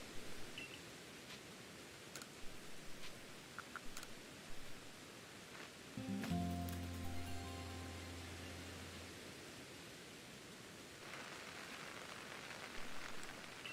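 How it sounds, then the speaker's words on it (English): Rain falling in the video game Pokémon Legends: Arceus, a soft steady hiss that stays faint throughout, broken by a brief tonal game chime partway through and swelling slightly near the end. "Now it's raining. I can hear the rain."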